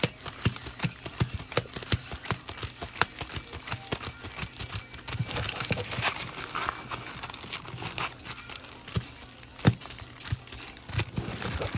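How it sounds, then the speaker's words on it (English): A deck of trading cards from a Brilliant Stars box is shuffled by hand, producing quiet rapid clicking and flicking bursts with papery crinkling, mostly alone with no talk. "Now, we got to shuffle these up as well."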